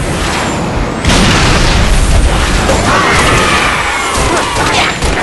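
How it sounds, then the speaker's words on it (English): A grenade blast in the Halo Reach Firefight mode on the Courtyard map, a loud booming burst that hits at about one second and rolls on through a dense wash of gunfire and battle noise. "Grenade out!"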